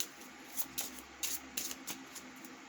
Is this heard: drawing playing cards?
yes